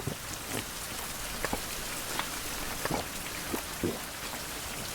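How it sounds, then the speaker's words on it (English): Rain falls in the Fountain of Youth video game, a steady soft hiss of drops on surfaces with a few sharper, irregular drip ticks, quiet and without speech. "Beautiful. Rain."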